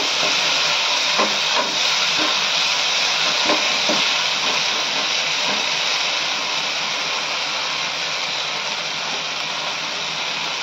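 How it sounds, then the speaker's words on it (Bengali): Onion and green chilli paste masala frying in a pan while being stirred, a loud continuous sizzling hiss with a few soft scraping taps early on, then an even steady sizzle. "আর দিয়ে দেবো 1 টেবিল চামচ পেঁয়াজ আর কাঁচা লঙ্কা বাটা। এবার মশলাটাকে ভালো করে নেড়ে চেড়ে নেব।"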